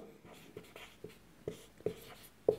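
Chalk or marker strokes on a classroom board during a Hindi-language class 11 math lesson on straight lines, heard as a series of short, soft taps and scratches spaced irregularly, growing slightly sharper toward the end.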